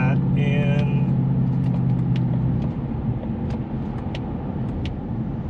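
A 2021 Ford Mustang Mach 1 accelerating in normal mode with automatic shifting, a loud close engine drone that drops and changes as a gear shifts, with faint clicks and ticks over it.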